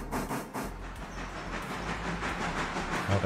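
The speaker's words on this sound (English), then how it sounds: "Why are you moving my locomotive?" A locomotive rolls along in a railroad video game, giving a continuous rumbling rail noise with hiss and faint clacking, steady and fairly close, with no voices.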